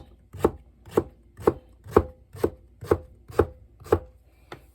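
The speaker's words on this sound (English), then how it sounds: "And I just chop it up in pieces like this." Zucchini is chopped into pieces with a knife on a board, nine evenly spaced crisp thuds in a steady rhythm, close and clear with no talking.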